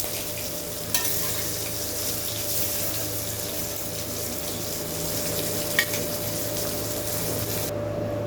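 Hilsa fish frying in oil gives a steady, dense sizzle with a constant low hum underneath, close and even throughout with a couple of faint clicks.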